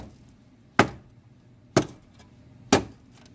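A hammer strikes a steel car floor three times at roughly one-second intervals, each blow a sharp, loud, close impact with a short metallic ring and quiet between hits.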